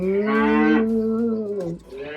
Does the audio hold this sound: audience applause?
no